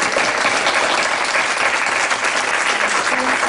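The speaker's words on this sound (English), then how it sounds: "give you a round of applause" Steady applause from a crowd at a board meeting, honoring a volunteer, dense and even throughout with no talk over it.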